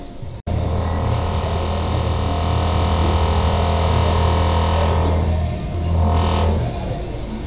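A synthesizer with its filter cutoff closed all the way drones as a dark, muffled, steady hum, with a brief swell of brighter noise near the end.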